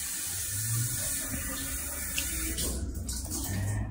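Tap water runs steadily into a sink while skin care product is rinsed off a hand with small gauze pads, a continuous close splashing wash with no voices.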